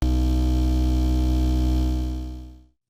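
A neuro bass note played through a Granulator instrument drones as a dense, buzzing low tone rich in harmonics, held steady and loud for over two seconds before quickly fading out.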